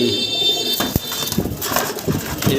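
Pigeons coo in low, soft bursts close by, amid a busy, noisy background with scattered knocks and rustles, as at a bird seller's stall.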